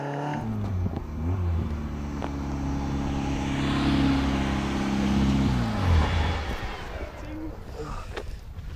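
A Caterham sports car held in second gear revs up and settles, its engine note rising in stepped harmonics then easing off, loud and close, with voices talking over it.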